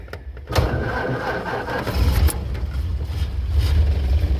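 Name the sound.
1931 Ford Model A coupe engine being started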